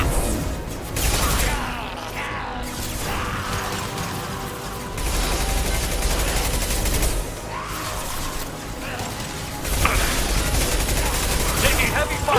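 Heavy, continuous gunfire from a firefight in the game Mass Effect 2, a steady wash of shots and impacts with surges of louder bursts throughout.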